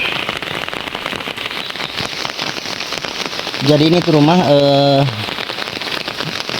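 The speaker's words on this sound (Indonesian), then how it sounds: "Suasana kampung seperti zaman dulu turun hujan." Steady rain patters on surfaces in a village throughout, with a person speaking briefly and a tonal horn-like sound rising over the rain midway.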